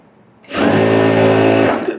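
A sewing machine stitching a blouse starts up abruptly and runs at a steady, loud, high whir for over a second, then stops.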